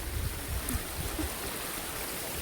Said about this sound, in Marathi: धबधबा आहे. मस्त आहे. आवाज बघा खारखार आहे. आवाज येतोय.